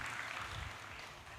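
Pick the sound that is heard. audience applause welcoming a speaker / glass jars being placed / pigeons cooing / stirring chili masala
audience applause welcoming a speaker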